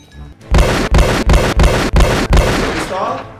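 Six sharp, loud pistol gunshots fire in a quick, fairly even sequence, each with a short boomy tail, followed by a lingering ring.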